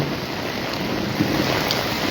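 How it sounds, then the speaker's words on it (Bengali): Strong storm wind roars steadily and close, a broad constant rush with slight gusting swells, heard alone with no voices. "প্রচণ্ড বাতাস"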